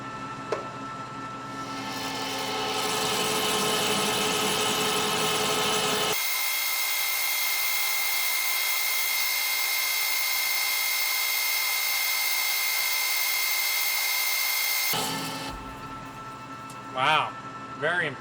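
A Pacemaker lathe taking a heavy cut while turning a large spacer, a loud, steady mechanical whine and hum that starts, holds evenly, then stops, followed by brief faint shop noises.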